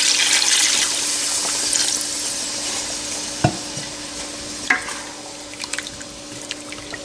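Water is poured into frying nihari meat masala in a pot, giving a continuous hissing sizzle that slowly fades, with a couple of sharp clinks of a spoon while stirring.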